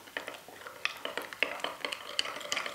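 Yeast and honey stirred in a bowl with a utensil, giving a steady run of close, light clinks and scrapes against the bowl's side, with no voices.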